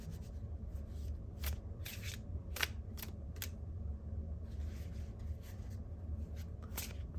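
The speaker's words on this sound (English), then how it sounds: "let us take 2 cards from this deck" Tarot cards drawn one by one from a deck, with soft papery slides and crisp flicks standing out at intervals over a low steady background hum.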